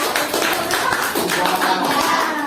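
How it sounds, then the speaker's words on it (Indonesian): Applause from a classroom of adults during a teacher-training lesson in Indonesia, a steady patter of hand claps filling the room for about two and a half seconds. "Saya terima tepuk tangan untuk Bapak."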